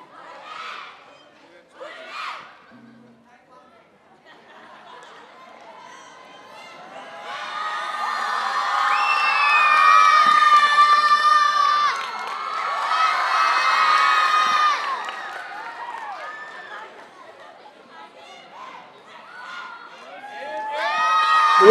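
A school crowd of children at a singing idol contest cheers, shouts and claps for the announced champion, swelling into a loud roar midway, then fading before rising again at the end.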